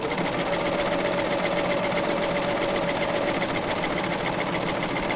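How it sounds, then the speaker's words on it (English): A Baby Lock serger fitted with a belt loop binder attachment stitches steadily, giving a loud continuous mechanical whir with a constant hum throughout, and no talking. "And I'm going to stitch."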